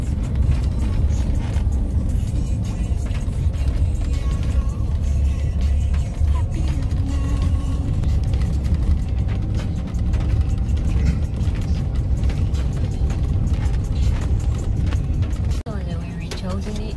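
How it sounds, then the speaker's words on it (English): A Suzuki car is driven hard up a hill, giving a steady, loud low engine rumble that runs the whole time, with voices over it. "they were driving really hard going up the hill"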